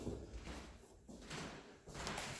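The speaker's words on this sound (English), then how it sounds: "That's the door." A door in a master bedroom of a house under inspection swings open or shut, with several dull, broadband shuffles and knocks spread across a couple of seconds at close range.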